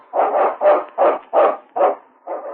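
A husky lead dog barks in an old 1950 radio drama set in the Yukon, six loud, evenly spaced barks in a steady rhythm, close and clear with no talk over them.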